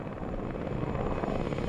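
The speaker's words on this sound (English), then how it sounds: "Attack chopper." An attack helicopter in the combat game Arma 3 flies nearby, its rotor thumping in a steady, dense drone that stays loud and close throughout, with no voices over it.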